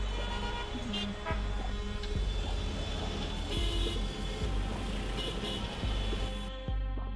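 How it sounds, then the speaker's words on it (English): Heavy weekend traffic on a road near Margalla Hills outside Islamabad, a steady close roar of car and truck engines with passing vehicles and an occasional horn toot. "On busy weekends, the traffic is almost bumper to bumper."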